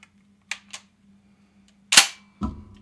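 Dry firing a Rock Island X4 Lion shotgun: a couple of light mechanical clicks, then a sharp metallic snap of the action and a heavier clack as it closes, close-up and otherwise quiet.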